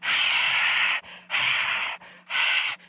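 A voice imitates a roaring crowd with three long breathy hissing bursts separated by short pauses, loud and close.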